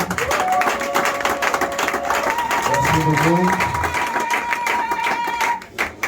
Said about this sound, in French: Si vous êtes dans la joie, donnez-moi vos acclamations.